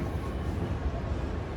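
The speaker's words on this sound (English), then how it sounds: "Train has arrived." A train standing at a large railway station where ICE trains call, a steady low rumble and hum that holds level and close throughout, with no voices over it.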